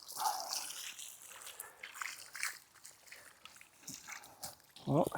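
Water from a garden hose trickles and sloshes into a backyard water feature's catch basin, a soft continuous flow with gentle splashes and a louder splash near the end.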